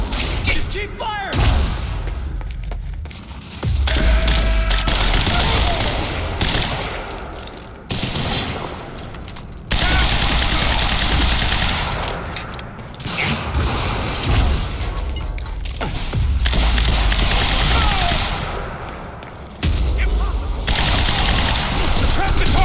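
Dense gunfire from the video game Quantum Break, including shotgun blasts, in loud sustained bursts of rapid fire broken by a few short pauses, with voices shouting over the shooting.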